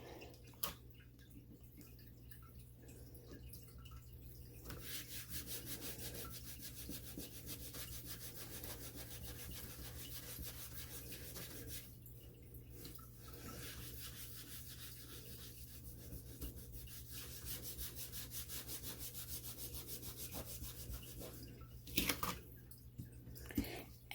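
A baby wipe rubbed across a sticky Cricut cutting mat, making faint, close, steady scrubbing and rasping strokes with brief quiet pauses and a few small tacky clicks near the end.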